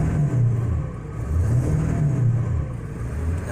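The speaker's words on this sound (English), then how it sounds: "Let's see what happens if I give it a little throttle." A Ford 7.3 diesel engine, sick and pouring out heavy smoke, rises and falls in a rough low rumble as light throttle is given in a few short revs, close to the microphone.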